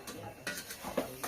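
A spoon scrapes and stirs garam masala into a pot of soya-chunk (meal maker) biryani, giving a few soft, faint strokes in an irregular rhythm in a quiet kitchen.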